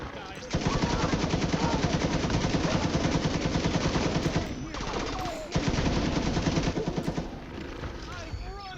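Video game gunfire, long rapid bursts of automatic weapon fire that run almost continuously, pause briefly, then resume, loud and close, with a voice speaking over the shots.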